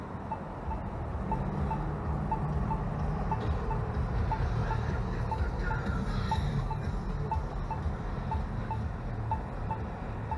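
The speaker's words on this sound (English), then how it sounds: "the crosswalk beeping." A crosswalk pedestrian signal at a street crossing ticks out a regular, fairly faint beep about every half second, heard from a bicycle over steady wind and traffic rumble.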